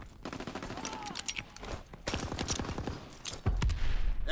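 Gunfire in the World War II shooter game Call of Duty: WWII, rapid bursts of automatic fire and scattered shots mixed with game voices and shouting, fairly dense and moderately loud.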